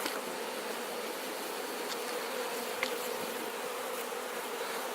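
Honey bees buzz steadily around a hive, some with pollen-laden legs, a dense continuous drone of many wings with occasional louder passes close by and no voices.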